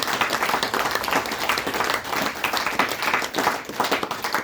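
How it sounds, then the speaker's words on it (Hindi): Audience applause at a motivational talk during a ten-day ashram camp, a sustained burst of many hands clapping in a room, loud and continuous throughout. "तालियां बजनी चाहिए।"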